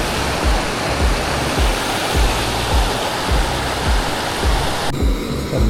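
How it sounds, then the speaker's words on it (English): A small mountain creek in Kakwa Provincial Park, British Columbia, rushing steadily and loudly close by, a constant broadband wash of water with a faint rhythmic low burble and no voices. "Here we go, nice little creek."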